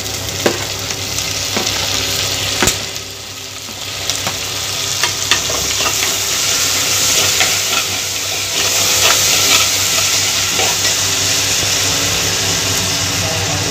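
Onions and tomatoes sautéing in a pan for a traditional brinjal tamarind curry, a steady loud sizzle with occasional stirring scrapes and clinks throughout.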